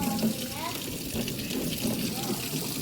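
Tap water runs in a steady broadband wash through the whole stretch, fairly close and continuous, with voices talking over it.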